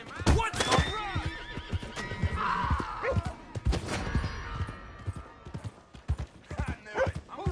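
In a PS4 video game, a horse whinnies loudly amid clip-clopping hooves and scattered gunfire thuds, with someone talking over the action.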